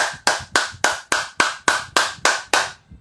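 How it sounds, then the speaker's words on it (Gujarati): Ten sharp, loud hand claps in a fast, even rhythm, close up and alone, demonstrating the forceful clapping style taught at a farmers' movement gathering. "અવાજ જોરથી આવવો જોઈએ અને ફટાફટ તાળી પાડવાની."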